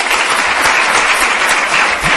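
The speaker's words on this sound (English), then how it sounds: "So let's give our panel a round of applause," Dense audience applause for a conference panel, loud and steady from start to finish, many hands clapping together in a large room.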